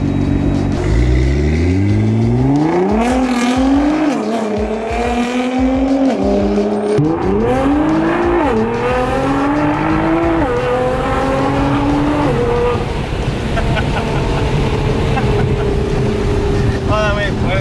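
A straight-piped Nissan R35 GT-R engine revving loudly up and down in repeated rising pulls, close and raw, with wind buffeting on the microphone.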